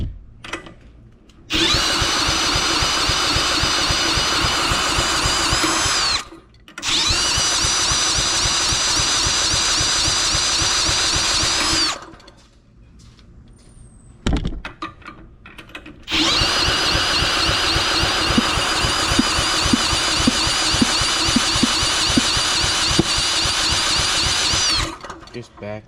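A Honda GX240 small engine on a go-kart project cranks in long, loud mechanical runs, broken by brief pauses and a sharp pop, with starting fluid applied; faint talk sits under it.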